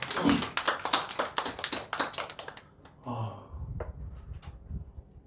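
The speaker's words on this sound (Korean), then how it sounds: "주님께 영광의 박수 한번 드릴까요?" A church congregation at a Friday prayer meeting claps in sharp, evenly spaced hand claps for a couple of seconds, then the clapping stops and soft, low murmuring continues.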